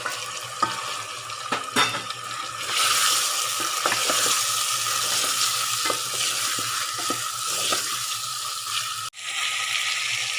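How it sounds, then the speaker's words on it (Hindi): Chicken pieces sizzle and fry in oil with garlic-ginger paste for a chicken and chickpea curry, a steady loud hiss broken by scraping stirs and light clinks of a utensil against the pot. "लहसुन अदरक का पेस्ट, इस टाइम पे चिकन ऐड कर लेंगे।"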